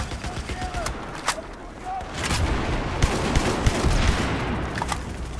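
Shotgun fire in Battlefield 4 on the Operation Locker map: several sharp blasts ring out amid a busy, noisy battle din of other gunfire, with a voice talking now and then.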